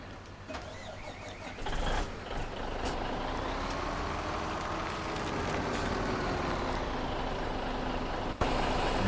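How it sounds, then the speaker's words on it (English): Farm truck in Farming Simulator 17 on PS4, its engine droning steadily as it pulls away and rises in pitch, with a short hiss near the end and brief talk from a player early on. "let's move the first truck out of the way"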